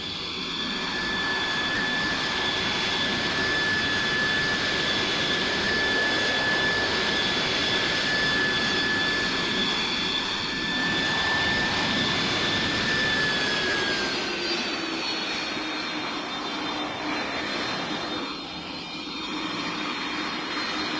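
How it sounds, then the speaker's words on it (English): A Boeing 727 oil spill response jet performs at an airshow in the Roblox game PTFS, its loud continuous engine roar carrying a steady high whine that slides lower near the end, with no talking. "probably be having a performance from the 2XL Aviation Boeing 727 oil spill response"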